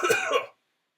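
A single short, close throat clearing, a rough half-second burst that stops into silence.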